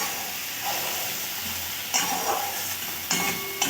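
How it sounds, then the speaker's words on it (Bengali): Shrimp frying in hot mustard oil in a pan give a steady, close sizzling hiss, broken by a few louder bursts as the pieces are stirred, with no talking. "চিংড়ি মাছগুলোকে 1-2 মিনিটের মতন ভেজে নিয়েছি"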